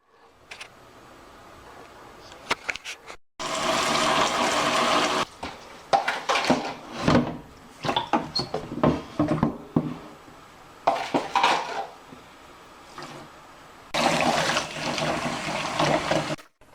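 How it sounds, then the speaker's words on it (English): Warm water runs to fill an OxiClean bath for doll care, coming in loud, irregular bursts of splashing with clinking and clattering of containers between them. "here I am making an OxiClean bath with a few scoops of OxiClean and warm water"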